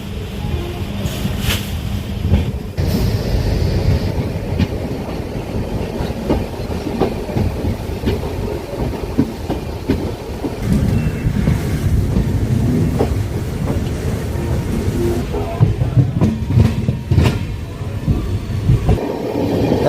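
Mangala Lakshadweep Express running on rails near Ernakulam Town station, a steady, loud rumble with rhythmic clickety-clack and wind noise continuing for about twenty seconds, no talk.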